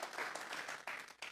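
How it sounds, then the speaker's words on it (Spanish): A church congregation applauds in worship to God, a dense, steady crowd clapping that lasts just over a second. "Vamos a regalarle ofrendas de palmas al Dios de la gloria"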